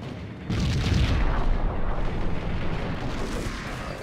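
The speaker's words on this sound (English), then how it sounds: "Oh, I thought that grenade had us." Grenade explosion in the shooter game Max Payne, a sudden loud booming blast after a brief quiet moment, followed by a rumbling, decaying tail of debris and reverberation.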